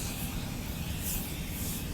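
An aerosol foam cleaner sprays inside a car, a continuous close, loud hiss holding steady for the full two seconds with no voices.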